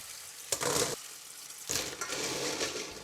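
Wet swishing and clattering of cockles being stirred in a basin of water, two bursts separated by a short pause, close by with no voices.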